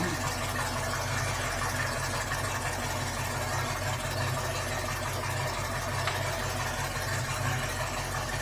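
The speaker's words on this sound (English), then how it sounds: "Yeah, it's a little loud. It's got like turbo mufflers on it and stuff." A 1971 Ford Mustang Mach 1 with loud turbo mufflers idles at a steady, continuous low rumble, close and even in level, with no talking over it.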